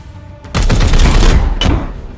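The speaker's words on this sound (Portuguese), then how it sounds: "Vou só atirar nesses caras," Gunfire from the video game Warhammer 40k: Chaos Gate - Daemonhunters erupts as a sudden loud, rattling volley after a quiet start, with a second sharp report near the end.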